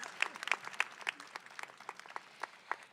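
Graduates and guests clapping at a college commencement ceremony, a light, scattered patter of distinct individual claps rather than a full roar, fairly quiet and with no talking over it.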